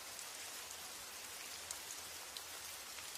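Heavy rain falls steadily in a dense, even hiss that fills the whole stretch, with a few sharper drop taps and no voices.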